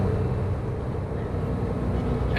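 A naturally aspirated 3.4-liter flat-six in a Porsche 911 hums steadily with a low, even drone, cruising without revs rising or falling.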